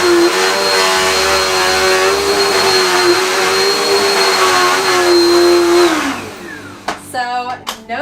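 A Dirt Devil Featherlite corded vacuum cleaner runs upright with a loud, steady motor whine for about six seconds, then powers down, followed by a few clicks and handling knocks.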